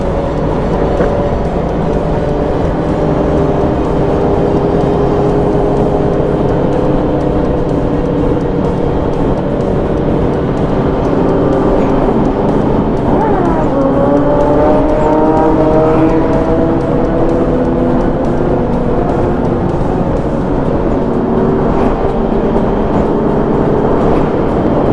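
A group of Kawasaki motorcycles rides at night in Dubai, engines droning loudly and continuously with rising and falling revs as bikes pass close by, a dense, unbroken roar throughout.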